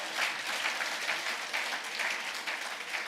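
An audience at a capital markets day conference applauds, dense steady clapping from many hands throughout, fairly loud and without talk.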